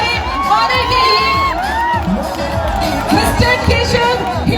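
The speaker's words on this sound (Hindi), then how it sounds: "एक बार जोरदार तालियां होनी चाहिए हमारे ऑनर के लिए" A huge, dense crowd at a Khesari Lal Yadav event in Muzaffarpur roars continuously, with loud cheering, high shouts and whoops, including children's voices, sustained throughout at close range.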